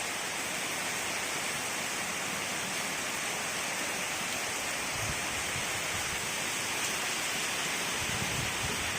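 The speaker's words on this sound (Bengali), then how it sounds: "খুব সুন্দর বৃষ্টি হচ্ছে" Heavy monsoon rain pours steadily at a temple beside a pond, a dense, unbroken hiss of drops on surfaces that stays loud and even throughout, with no voices.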